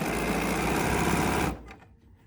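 BERNINA sewing machine stitching patchwork seams, a fast steady mechanical whir close by for about a second and a half before stopping abruptly.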